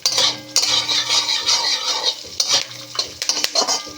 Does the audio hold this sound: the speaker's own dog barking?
no